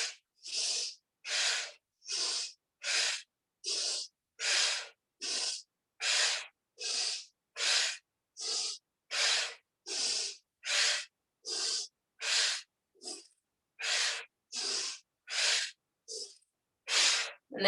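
Steady rhythmic breathing during a yoga knee-to-chin exercise, about twenty-five strong, close airy breaths in even succession, each exhale a sharp hissing puff, with no talking over them.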